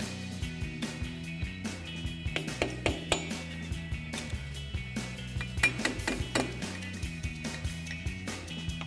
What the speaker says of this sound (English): You're just gonna grab the thinnest flathead screwdriver you can and a hammer and sort of pry it out of there.